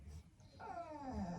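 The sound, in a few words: dog whimpering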